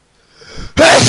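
A person sneezes once nearby during a Minecraft gaming session: a soft rising inhale, then a sudden loud, sharp burst that stays strong to the end.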